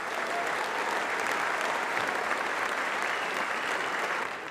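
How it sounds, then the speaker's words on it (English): An audience at RoboCup 2024 in Eindhoven applauds, a dense, even wash of clapping from many hands that holds steady throughout without voices standing out. "please give them all a big round of applause"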